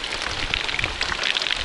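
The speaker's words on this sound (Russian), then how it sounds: "И все-таки этот дождь пошел." Rain begins to fall outdoors in a village during building work, a steady dense patter of drops on surfaces, continuous and fairly close with no voices.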